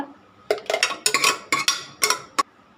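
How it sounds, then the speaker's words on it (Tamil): A spoon scrapes and clinks against a pan while spices are stirred in ghee, about eight sharp metallic strokes in an irregular rhythm, close and fairly loud, with no voices. "நல்லா மிக்ஸ் பண்ணிக்கோங்க இந்த நெய்யிலே."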